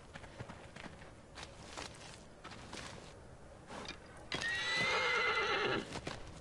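Hooves clop irregularly at a moderate distance in the video game Shadow of the Colossus remake, then a horse lets out a loud, shrill whinny that trails off, with footfalls continuing afterward.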